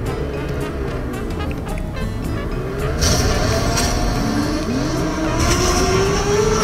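A race car engine in Free Fire revs and accelerates with rising Formula 1-like whine and occasional tire squeal, loud and continuous, with a synthetic game-like quality.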